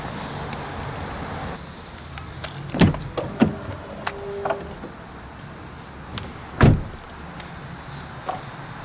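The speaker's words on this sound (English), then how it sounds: "the Expedition comes with power deploying running boards" A 2017 Ford Expedition Platinum door opens with a couple of sharp clunks, followed by a short whirring motor as the power running boards deploy, then another thud; quiet ambience in between.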